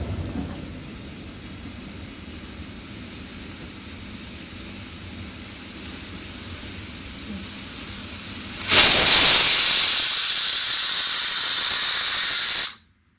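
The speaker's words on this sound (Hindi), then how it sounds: "आज प्रेशर कुकर उस गैस की आग पे है, उस स्टोव पे है" A pressure cooker on a gas stove lets out a sudden loud, steady jet of hissing steam after a stretch of low background hum, then cuts off abruptly.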